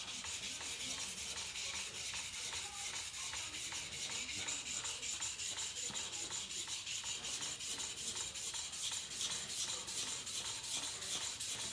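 A steel knife blade is hand-polished and thinned with steady rubbing strokes, a continuous scratchy friction that swells and fades in a regular rhythm, close and alone with no talk.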